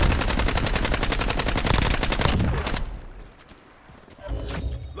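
Video game gunfire, rapid automatic bursts hammering in a fast even rhythm for nearly three seconds, loud and close, then a lull before more shots and game effects return.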